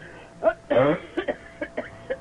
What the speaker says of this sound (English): Now I'm just going to leave you for a moment so I can cough.